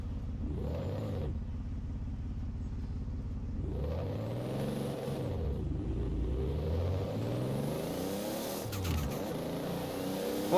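Toyota Supra engine in Forza Horizon 4 revving up and down in repeated surges, the loud game engine note rising and falling with throttle through corners, no talking.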